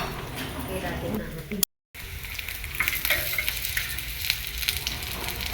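Peeled sweet potato (kamote) sizzles steadily as it fries in a pan, a dense continuous crackle that drops out briefly before resuming at the same level.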